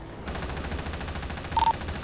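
Rapid gunfire in the video game GTA, a steady fast stream of close, punchy shots rattling through the whole short burst with a slightly louder flurry near the end.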